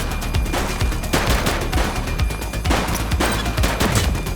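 Sustained gunfire during a police shootout in the video game The Precinct, loud repeated volleys of shots in quick irregular bursts over several seconds, close and dense, with no voices.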